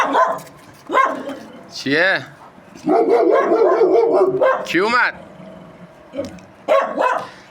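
A dog lets out several sharp barks and yips, close by, scattered between people talking.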